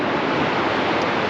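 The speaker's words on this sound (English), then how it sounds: "all you can hear is just the sound of big waves crashing in against these stacks" Big storm waves crash steadily against sea stacks on the Donegal coast at Glenlough, a loud, continuous roaring wash of surf with no voices.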